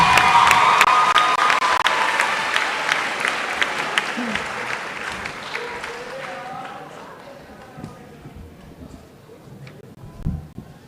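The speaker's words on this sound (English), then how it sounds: "Let's give them one more round of applause." An audience applauds students at a middle school promotion ceremony, loud clapping mixed with cheers that gradually thins and fades over several seconds until only scattered claps and murmurs remain.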